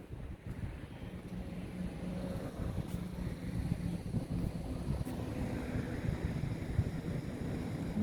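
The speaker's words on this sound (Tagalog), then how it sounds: "Maganda ngayon kasi mahangin." Wind blowing by the sea, heard as a soft, steady low rumble and buffeting on the microphone, faint and continuous with no voices.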